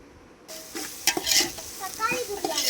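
Chopped tomatoes sizzle and crackle in hot oil as they are stirred, with scraping and clinks from a utensil against the pan, close and moderately loud.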